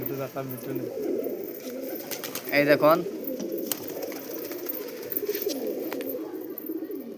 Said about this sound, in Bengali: এখন আপনাদেরকে ভিডিওর মাধ্যমে সব ছাড়া পায়রা দেখে দিব